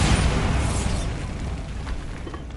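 A Bombarda blasting spell in Hogwarts Legacy erupts as a loud, close explosion, a broad roaring burst that rumbles and slowly fades over two and a half seconds with no speech over it.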